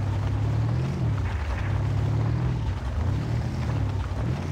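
A 1975 K5 Blazer truck engine in the Spintires game, a loud, steady low drone with slight swells in pitch as it revs through mud.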